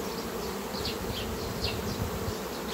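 Honey bees buzz steadily inside an open hive colony during queen removal, a continuous close droning hum with no talk.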